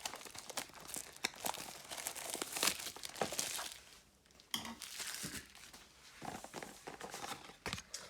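Pokémon booster packs of foil wrapping being handled and cut open with small scissors, close crinkling and rustling in irregular bursts with brief tearing and snipping noises, fairly quiet.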